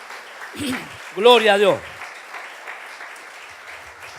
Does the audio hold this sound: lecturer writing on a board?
no